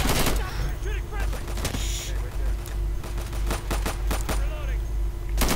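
Rapid automatic gunfire in the tactical shooter game Insurgency, sharp bursts of shots crackling repeatedly over a steady low hum, with a voice talking between volleys.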